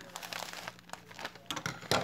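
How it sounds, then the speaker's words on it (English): Scissors snip into the corner of a crinkly plastic shipping package from an online thrift haul, producing close, irregular bursts of crackling and crinkling, with a sharper rustle near the end. "I'm going to cut off the corner and stick my scissors in there and stay at the top."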